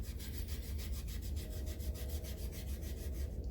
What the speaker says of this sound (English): This is just a hunk of, steel wool